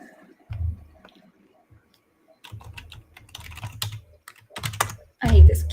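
Someone types on a bulky laptop keyboard in uneven bursts of clattering keystrokes, close and fairly loud, with a pause near the start and a heavier thump at the end.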